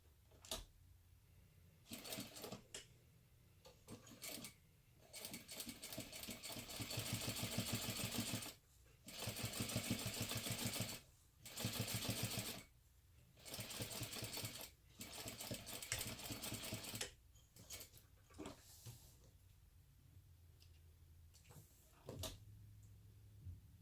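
A sewing machine back stitches a 1/8-inch seam on a crossbody bag: close, rapid mechanical chattering in several bursts, rising to louder, longer runs in the middle, separated by short pauses.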